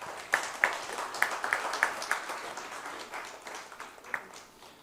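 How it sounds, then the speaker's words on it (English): Scattered applause from an audience at a conference session as tokens of appreciation go to panelists, fairly faint, with a few distinct sharp claps standing out early before the clapping thins and fades. "Can we have a good round of applause?"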